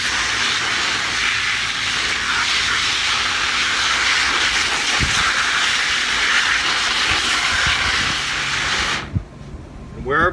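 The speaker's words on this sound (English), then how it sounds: "I'm gonna take a jet of water, and I'm gonna go under the leaves." A loud, steady hiss of a strong water jet spraying the undersides of plant leaves continuously for several seconds, then cutting off abruptly near the end.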